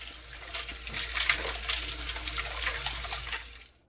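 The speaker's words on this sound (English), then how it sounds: "I'm going to run some cold water over it" Cold water from a kitchen tap running over salmon fillets at a sink, a close, hissing splatter that swells and wavers as the fish is rinsed, then cuts off at the end, with no talk.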